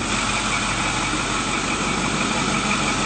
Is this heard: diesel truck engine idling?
yes